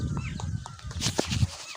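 Chickens and roosters in a Pakistani Hindu village cluck in a quick, busy series of short calls, close by and fairly loud, as they wander about in the open.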